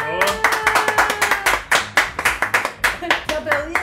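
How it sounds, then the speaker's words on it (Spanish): Hands clapping in a pottery workshop to celebrate a finished ceramic piece; a dozen or so sharp, close claps in a loose irregular rhythm. "Un aplauso, por favor."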